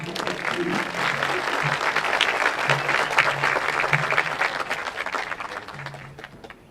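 Sustained applause from an audience at a high school senior awards ceremony, many hands clapping loudly and steadily before fading near the end, with a voice briefly heard over it.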